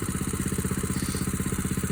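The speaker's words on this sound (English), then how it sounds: "All I need is just that little bitty generator. And it's 7 horsepower, 212." A small 7-horsepower 212 generator engine runs steadily, its rapid, even firing pulses chugging close by at a moderate level, with no talking.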